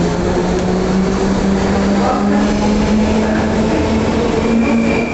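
London Underground train pulling out of a station, a loud sustained rumble with a rising whine and steady mechanical drone filling the platform, no gaps throughout.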